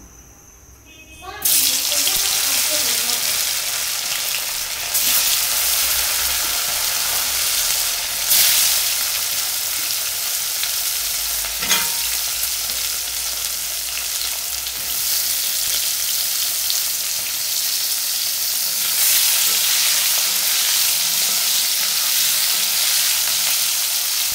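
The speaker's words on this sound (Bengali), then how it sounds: "এখন আমি এই ছোটো আলুগুলো ওই তেলের মধ্যে একটুখানি ভেজে নেব" Small potatoes coated with salt and turmeric frying in oil left from frying aubergines, a loud steady sizzle that starts abruptly and runs on without a break, with faint stirring and a few light clinks.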